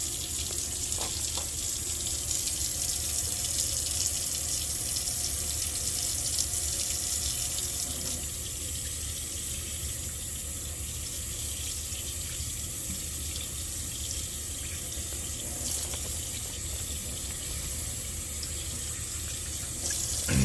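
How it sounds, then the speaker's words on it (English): A tap runs steadily into a sink while hands are washed under it, a continuous loud rush of water that shifts slightly partway through. No one speaks. "Rub hands together using firm circular motions for 15 to 20 seconds."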